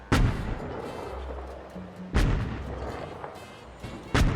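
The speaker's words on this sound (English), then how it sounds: "we right now we get to see our tank go into action against these new Greys" Tank cannon fire in a video game battle: three loud booming shots at irregular intervals, each with a sharp blast and rumbling decay, over low continuous engine drone.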